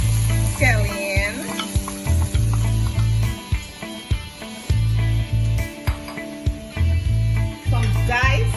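Chopped scallion and seasoning sizzling in a hot pan for Jamaican tun cornmeal, a loud continuous frying hiss broken by repeated deep rhythmic thumps and stirring scrapes, with brief whooshing bursts.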